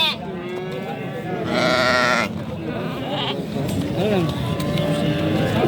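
A flock of sheep bleats loudly and repeatedly at a livestock market in Mastchoh, with overlapping calls, engine noise and people talking throughout.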